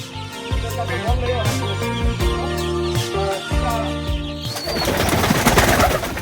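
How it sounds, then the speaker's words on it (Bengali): Pigeons of several breeds kept on an integrated farm in New York coo in repeated low, rhythmic, close-up phrases, giving way near the end to a busier rustling and flutter of the flock. "এছাড়াও এখানে প্রতিপালিত হচ্ছে বিভিন্ন প্রজাতির কবুতর"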